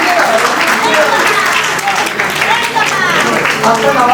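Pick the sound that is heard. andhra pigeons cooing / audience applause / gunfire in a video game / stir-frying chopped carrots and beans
audience applause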